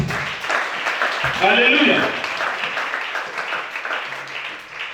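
A church congregation applauds and cheers during a worship service, a dense wash of clapping and crowd noise that swells briefly, while a voice speaks over it throughout.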